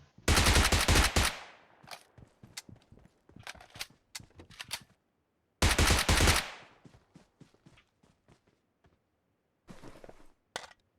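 Gunfire in the mobile battle-royale game PUBG Mobile, around Pochinki: two loud sustained bursts of automatic fire, each followed by a scatter of sharp single shots and short clusters, with quiet gaps between.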